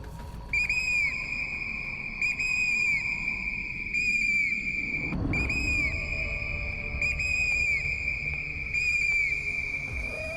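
Loud, sustained high whistling blown repeatedly to scare off wild animals such as bears and leopards in the Nanda Devi reserve, with a brief break midway before resuming, over low outdoor background noise.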